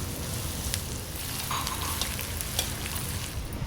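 Garlic frying in groundnut oil inside a clay pot, a steady close crackling sizzle with scattered sharp pops and faint stirring throughout, no voices.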